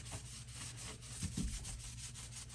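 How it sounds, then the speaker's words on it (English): Scrubbing the base of a Kohler toilet clean, with quiet rhythmic rubbing strokes repeating steadily at close range. "I'm going to give it more of a scrub just to get it, get it clean"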